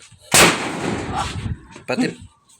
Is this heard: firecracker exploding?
yes